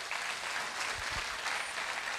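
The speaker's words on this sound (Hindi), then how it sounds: "हम चाहेंगे जोरदार ताली हो जाए" Audience applause at a business leadership event, a dense, steady wash of many hands clapping throughout, with no speech over it.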